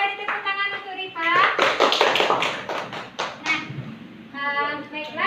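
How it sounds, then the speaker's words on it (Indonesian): Children in a third-grade classroom clap for a classmate, a short, loose burst of hand claps rising and falling for about two seconds, with children's voices chattering before and after. "Yang beri tepuk tangan untuk Rifa."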